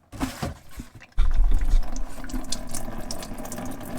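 Diesel fuel pours steadily from the fuel filter of a Jeep Wrangler EcoDiesel into a bucket, a continuous rushing splash that starts abruptly after a brief mechanical clatter and keeps going to the end.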